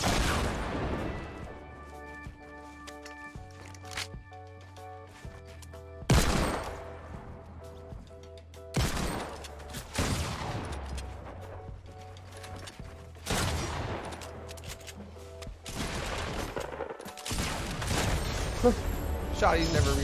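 Shotgun fire in an online shooter game comes as a rapid run of sharp blasts and clattering impacts, loud and close, over steady game noise. People talk over it throughout.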